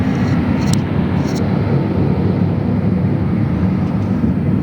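An airliner's jet engines spool up at LAX in a loud, dense, continuous roar that holds steady, with no voices heard.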